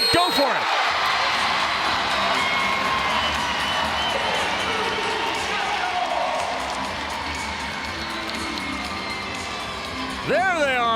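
A home crowd fills a volleyball arena at a professional LOVB match in Salt Lake, a sustained roar of cheering and shouting, and near the end a sharp rising whoop or whistle.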